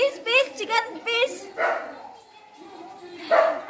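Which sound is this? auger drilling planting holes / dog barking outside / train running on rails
dog barking outside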